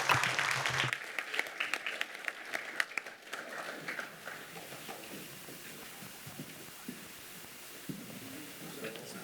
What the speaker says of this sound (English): Give them a round of applause as they come on the stage for a photo op